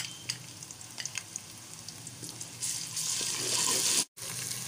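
Garlic ginger paste sizzles in a pan with browned onions and chicken, with scattered faint clinks and stirring, then a louder, denser hiss of frying that is cut by a brief dropout.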